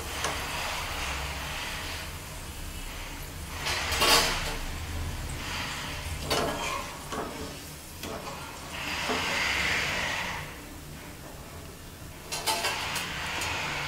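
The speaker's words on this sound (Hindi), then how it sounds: "और गोल्डन ब्राउन होने तक हम लच्छों को फ्राई करेंगे।" Potato lachha shreds fry in hot oil for aloo lachha namkeen, a continuous hiss with surges of louder sizzling bursts that swell and fade across the clip, no voices.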